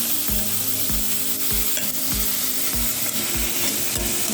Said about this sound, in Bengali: এগুলো একটু হালকা করে ভেজে নিব তেলের মধ্যে